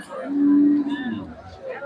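Cattle at a busy rural cattle market in Madhupur, Tangail, one nearby cow giving a single drawn-out low moo over the murmur of people talking in the background.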